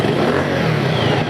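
A Bajaj Pulsar motorcycle engine, freshly fitted with a new cylinder block, revving loud and close in one continuous steady burst.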